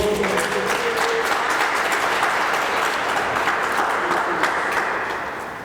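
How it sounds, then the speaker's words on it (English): An audience applauds at a Cameroon flag raising ceremony, a loud sustained crowd of clapping hands that holds steady for several seconds before fading at the end. "Please give her a round of applause"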